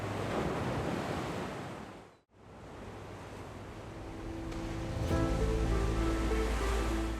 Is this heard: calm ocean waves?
yes